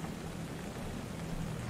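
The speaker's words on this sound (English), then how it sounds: "The storm doesn't seem to calm down." Storm rain in a horror video game patters steadily as a faint, even wash with a low rumble beneath, alone without any talking.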